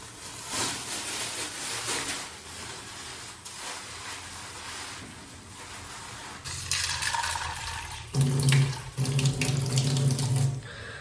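Tap water runs steadily into a container holding chickpeas, peanuts and mung beans set to soak in a home kitchen, the flow changing pitch and growing louder partway through as the vessel fills.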